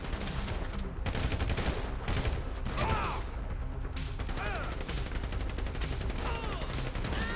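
Sustained rapid gunfire in GTA Enhanced Edition during a long-range police shootout, with dense bursts rattling almost without pause and a few metallic hits mixed in.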